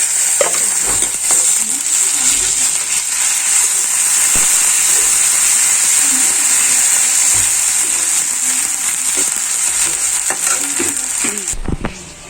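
Onions sizzle loudly in hot oil with ginger garlic paste, a steady close frying hiss with occasional stirring scrapes, ending with a brief clatter.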